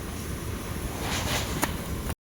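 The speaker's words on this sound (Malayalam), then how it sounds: "ഷീറ്റ് വെച്ചിട്ട് പോലും നല്ല രീതിക്ക് കാറ്റുണ്ട്." Strong wind blows across a school ground near a sheet shelter. A steady rushing roar buffets the microphone, rising briefly before cutting off.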